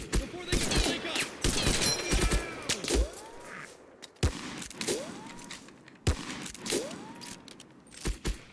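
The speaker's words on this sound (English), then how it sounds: "Watch that German machine gun." German machine gun fire in the video game Mud and Blood comes in loud, repeated rattling bursts with sharp cracks and whistling sweeps, separated by short gaps.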